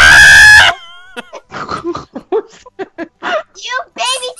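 Cartoonish chicken sounds from the Roblox game Chicken Simulator: a loud rooster crow opens, followed by a rapid string of short clucks and chirps.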